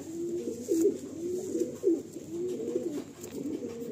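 Pigeons from a breeding pair in Behala coo close by in low, rolling, repeated phrases, a steady run of throaty calls with no speech.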